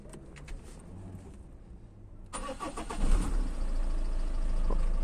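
A car engine, just after its sensor was cleaned, cranks with a few faint clicks, goes quiet, then catches and fires up, revving briefly before settling into a steady, fairly close idle.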